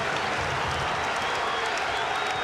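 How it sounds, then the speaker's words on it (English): A college basketball crowd at South Carolina's arena, Georgetown visiting, cheers and applauds in a loud continuous roar, with a commentator talking over it. "now the crowd's starting to get back into it again"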